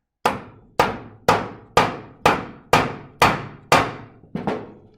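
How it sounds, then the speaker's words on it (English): A hammer taps a lawnmower flywheel eight times in steady succession, each blow a sharp metallic strike with a short ringing decay, close and clear with no talking. "I take the hammer"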